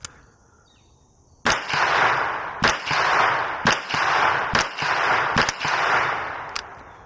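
Rifle fitted with a Primary Arms red dot sight fires at a bullseye target outdoors: about six loud, sharp gunshots spaced roughly a second apart, each followed by a ringing echo.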